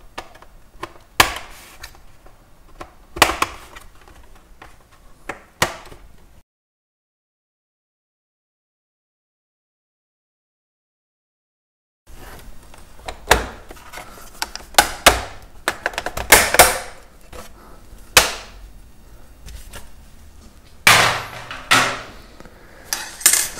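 A flat tool prying open the plastic case of an HP 17-bs laptop, giving sharp plastic clicks, snaps and scraping knocks in irregular bursts, with a stretch of silence in the middle before more dense clicking.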